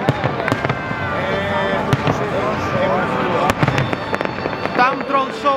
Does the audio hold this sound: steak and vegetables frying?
no